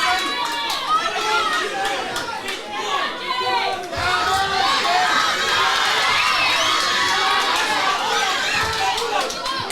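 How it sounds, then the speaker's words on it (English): A lively crowd at a boxing club home show cheers and shouts during a bout, with high excited voices and chatter forming a loud continuous roar that swells slightly midway. "Crowd still lively and with it."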